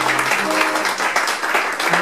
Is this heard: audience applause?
yes